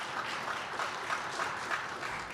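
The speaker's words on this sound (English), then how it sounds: "let's give a round of applause to what we just heard" Audience applause for the Shippensburg Area Chorus after its performance, a steady dense clapping that holds evenly throughout with no talk over it.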